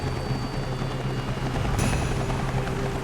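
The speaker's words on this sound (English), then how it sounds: "all of a sudden I could hear it real faintly, the helicopter sound" A helicopter flies over icy sea waves, its steady rotor drone filling the air at a moderate, fairly distant level, with a brighter whine rising partway through.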